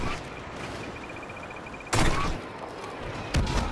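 Blaster fire hits an AT-AT walker in Star Wars Battlefront, two loud sharp bursts over a low battlefield rumble. Earlier, a faint steady beeping pulses in the background.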